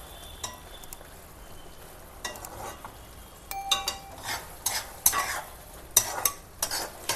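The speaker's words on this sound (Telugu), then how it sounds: "ఇప్పుడు దీంట్లో డ్రై ఫ్రూట్స్ ఏలక్కాయలు వేస్తున్నాను. వేసి దాన్ని బాగా కలిగి పెట్టాలి." Sweet pongal rice with dry fruits and cardamom being stirred in a pot: a spoon scrapes and clinks irregularly over a faint sizzle, the strokes growing louder and busier toward the end.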